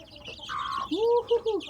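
Chickens in a pen on a hill farm, a few close short clucks and a drawn-out hen call over faint background chatter from other birds.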